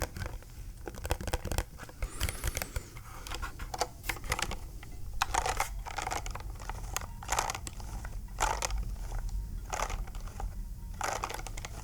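Fingers typing on a Surmen GT6 computer keyboard, close and quiet, with irregular bursts of crisp clacks and taps, some keystrokes clustered quickly and others spaced apart, no voice.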